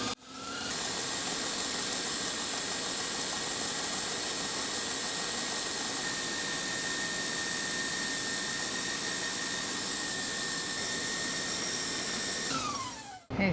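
Stand mixer whipping hot keto Italian meringue at medium speed, a steady loud whirring drone with high motor whine running unbroken for over twelve seconds, then winding down at the end.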